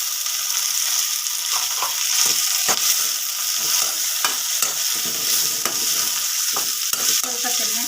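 Chillies, onion and tomato sizzling in a pan, a steady bright frying hiss broken by repeated scraping clicks of a spoon stirring, close and continuous with no talk.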